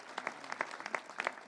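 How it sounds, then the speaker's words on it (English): Brief bursts of applause from an audience at a Massachusetts state event on a high school graduation framework, uneven and moderately loud, with a few sharper clusters of claps. "can we give another round of applause for Annabelle"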